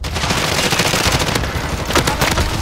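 Loud, continuous automatic gunfire in the Warzone video game, with a RAM-7 rifle in play, rattling close by in dense overlapping bursts throughout.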